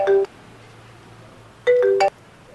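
A mobile phone ringtone plays two short bursts of bright electronic melody, separated by a pause of more than a second, indoors with no talking.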